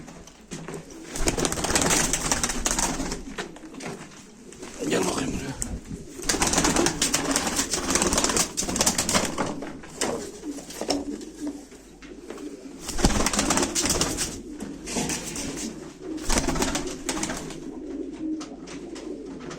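Pigeons coo steadily at a live pigeon auction, a dense, continuous layer of overlapping calls that fills the scene at moderate loudness, with occasional louder swells and bursts of flapping.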